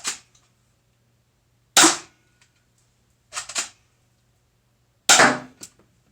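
Airsoft Uzi shots are fired indoors: four sharp, loud cracks spaced a second or more apart, some followed by a quick rattle of the pellet bouncing, with near silence between them and no talking.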